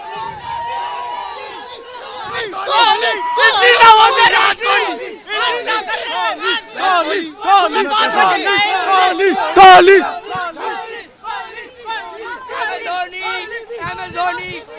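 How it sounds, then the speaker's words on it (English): Large crowd of cricket fans massed at a stadium gate, a dense roar of shouting and chanting voices with overlapping chatter, swelling and dipping continuously, with louder cheering bursts throughout. "Look at the crowd."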